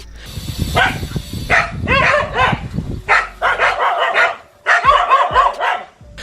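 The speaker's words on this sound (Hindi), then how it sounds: "अब यहाँ इन कुत्तों की गैंग ने इस झील में बैठे अकेले मॉनिटर लिजार्ड को घेर लिया, जिसके बाद ये पानी के अंदर जाकर इसका पीछा करने लगे" A pack of dogs barks loudly and repeatedly while chasing a monitor lizard through a lake, with overlapping yips and bursts of barking from several dogs and splashing at the start.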